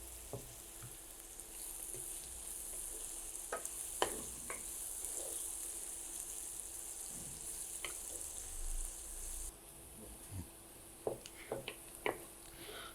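Onions and cumin fry in oil in a pan for chicken curry, giving a steady, soft, close sizzle broken by scattered clicks and scrapes of stirring.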